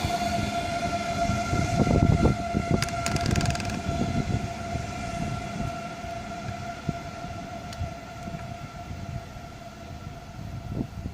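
Class 374 high-speed train 374006 pulling away from Ebbsfleet International on HS1, with a steady electric whine and rumble that swells early then settles into a sustained drone, plus a brief horn-like tone.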